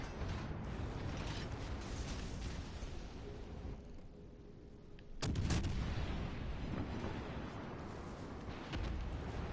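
Heavy naval guns firing AP shells in the World of Warships video game, a loud booming blast about midway through over a steady rumble of battle ambience.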